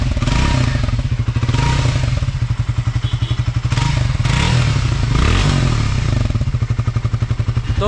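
A Triumph Speed T4 motorcycle idling in a showroom, its engine giving a loud, close, steady pulsing thump with a rapid even rhythm and some mechanical clatter, with no talking over it.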